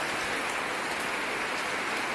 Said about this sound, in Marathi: आता पण पाऊस आहे बघा, पाऊस लागतोय आता पण मित्रांनो